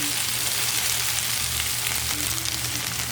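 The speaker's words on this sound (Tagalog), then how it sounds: "Haluin lang natin ang haluin yan hanggang sa maluto." Food sizzling and frying steadily in a pan while being stirred, a continuous close hiss with faint scraping and no voices.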